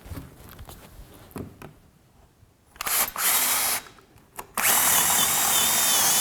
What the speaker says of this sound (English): I'll drill the through hole.